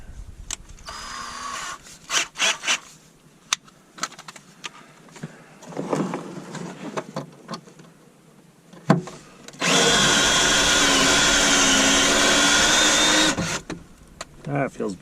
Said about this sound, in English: I had a little piece of one of the cutouts in the middle of the spot weld cutter, so it wasn't allowing me to cut anymore